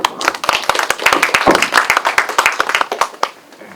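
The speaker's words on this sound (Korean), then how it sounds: "박수로 맞으시죠" Applause welcoming presenters at an academic literary conference, a room of hands clapping steadily and briskly with sharp individual claps close by, sustained for a few seconds.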